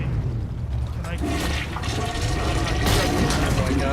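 The toilet flush horn on the Harasser vehicle in the video game Planetside 2 sounds as a rushing, gurgling watery flush that swells and holds for several seconds, with players chatting over it.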